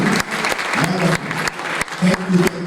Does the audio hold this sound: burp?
no